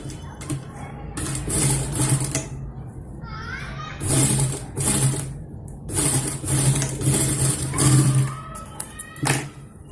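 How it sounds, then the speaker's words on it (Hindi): A sewing machine stitching lace onto a small Krishna costume for Janmashtami runs in short, close mechanical bursts with pauses between, while children's voices chatter in the background. "और यहाँ से हमें सिलाई कर लेंगे"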